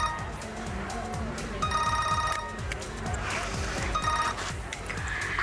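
A mobile phone rings in a quiet room, two bright electronic ringtone bursts repeating moderately loud over faint background rumble, with no voices.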